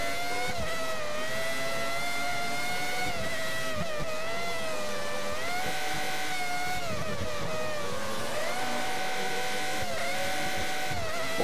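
A classic Formula 1 car engine in the video game F1 2013 whines at high pitch, rising and falling as it shifts through gears, continuous and fairly loud with no talking.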